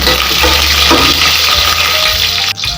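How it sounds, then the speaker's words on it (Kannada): Cumin seeds and dried red chillies fry in hot oil with a loud, dense, close sizzle that holds steady and briefly dips near the end. "ಕಾಲು ಟೀ ಸ್ಪೂನಷ್ಟು ಜೀರಿಗೆ ಎರಡು ಒಣಮೆಣಸಿನಕಾಯಿ ಇದನ್ನು ಲೈಟಾಗಿ ಫ್ರೈ ಮಾಡಿ"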